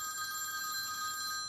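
A phone rings steadily through a family meal at home, a continuous electronic bell tone at moderate level with no talking.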